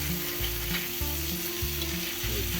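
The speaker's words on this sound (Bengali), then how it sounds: "এবার পুঁটি মাছগুলো দিয়ে দিচ্ছে ভাজা।" Small puti fish frying in a little oil, a steady close sizzle with a low rhythmic thumping and a background hum running underneath throughout.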